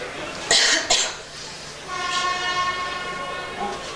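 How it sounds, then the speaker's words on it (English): A train rumbles past nearby a football ground with a sustained, horn-like tonal hum, after a couple of sharp bursts of noise at the start. "that was just the train"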